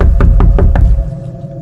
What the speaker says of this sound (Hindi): गाड़ी शुरू हुई और साथ ही शीशे पर एक दस्तक।